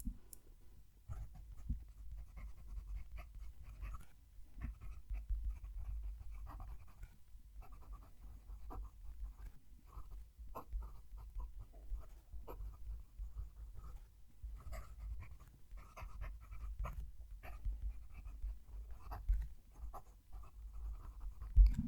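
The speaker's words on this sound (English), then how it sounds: "Let's move the mic and write a sentence." An Australian-made Rod Roncari fountain pen with a bottle nib writes a sentence on paper, giving soft, close, scratchy strokes in irregular bursts under low room noise, with no talking.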